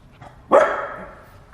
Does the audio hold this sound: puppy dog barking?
yes